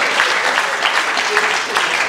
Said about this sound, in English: clap for all the dead red shirts